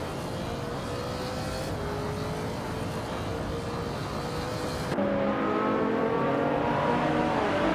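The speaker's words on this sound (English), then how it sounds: "Senra Savage is driving a 2017 Honda NSX and is currently in 10th place." A 2017 Honda NSX race car in a racing video game, its engine droning steadily at sustained revs with a sharp shift in pitch partway through, no voices.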